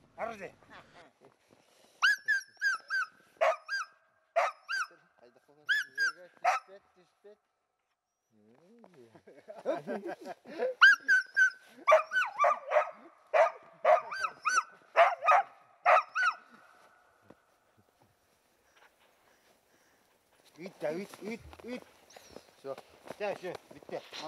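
Hunting dogs bark at a sable in rapid, yapping bursts with short pauses between, fairly close, including some higher excited yips, alternating with stretches of quiet.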